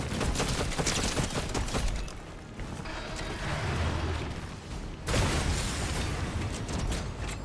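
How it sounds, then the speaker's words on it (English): Gunfire from another player in the video game Fortnite, with rapid bursts of shots and mechanical clatter, loud and dense, briefly easing midway before resuming. "Somebody else shooting."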